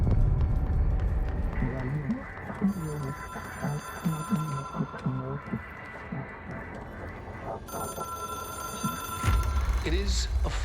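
A telephone rings in the video game Control, its repeated tonal bursts sounding through a game soundtrack while a voice talks over it.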